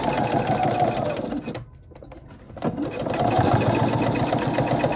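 A sewing machine runs steadily, stitching a fabric Christmas ornament; the loud continuous whir drops out briefly midway, then resumes at full speed for the rest of the stretch.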